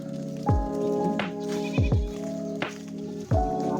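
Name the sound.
goat bleating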